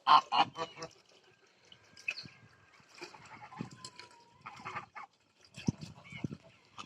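Geese honk repeatedly in short, uneven bursts, some close and loud, others fainter, with flock chatter filling the gaps.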